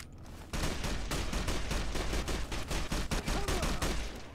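Sustained rapid gunfire during the second battle for Hoover Dam in Fallout: New Vegas, a dense train of evenly spaced automatic shots starting abruptly and running to the end, fairly distant and steady.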